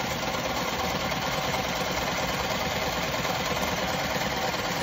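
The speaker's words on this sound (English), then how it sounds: "And I am going to baste 5/8 with no back stitching." An industrial sewing machine basting a centered zipper with long stitches and no backstitching, running as a continuous loud mechanical hum and whir throughout, with no talk.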